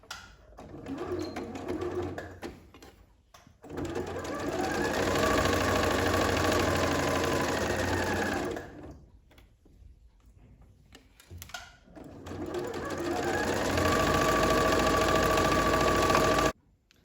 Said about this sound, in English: So I've done my twin needle all the way around, and I'm at the end here now.